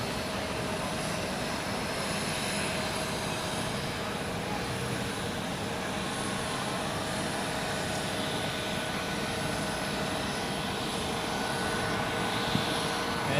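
An airliner taxiing past at Zurich Airport gives off a continuous, even engine hum and whine at moderate loudness, with no break in the sound.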